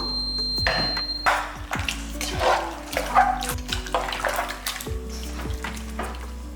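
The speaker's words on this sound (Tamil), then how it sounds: "அதனால இதுலேயே கொஞ்சம் தண்ணி ஊற்றி இதில் ஊற்றிடுவோம்." Water splashes and gurgles into a cooking pan in short pours while making mutton curry, with metallic clinks from the pan, close up.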